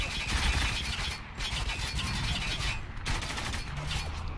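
Gunfire in the video game Spec Ops: The Line: dense, sustained volleys of automatic shots that crackle loudly throughout, with two brief lulls, and no talk over them.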